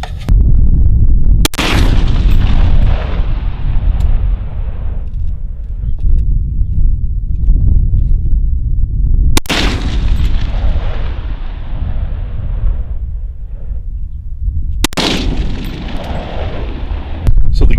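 Loud rifle shots from a Wilson Combat 300 HAM'R with a lightweight billet upper and lower, three sharp blasts spaced several seconds apart, each trailing off in a long rolling outdoor echo under steady wind.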